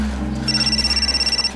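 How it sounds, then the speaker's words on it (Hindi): An electronic telephone ringing in an indoor scene, a rapid warbling trill repeating for about a second over a low steady background hum. "अरे डेलनास की सुबह सुबह फोन कर रही है।"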